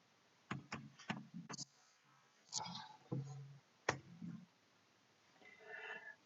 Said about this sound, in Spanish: doy doble clic